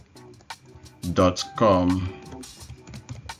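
Quick light keystrokes tap on a computer keyboard as a web address is typed. A voice talks over much of the typing, and the clicks stay close and faint under his speech.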